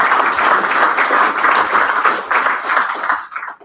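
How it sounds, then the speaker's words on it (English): A live audience applauds contest winners with sustained, energetic clapping that holds steady and then tapers off near the end. "Let's give them one more round of applause."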